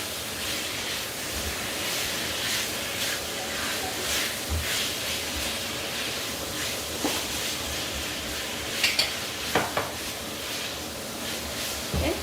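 A loud, steady sizzling hiss as water is added to a hot pan of browned chicken, continuing throughout, with a few sharper crackles and pops near the end.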